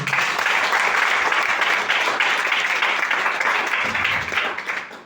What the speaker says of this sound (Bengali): আজকের এই অডিয়েন্স আপনারা যারা আছেন সবারই জন্য একটা জোরদার করতালি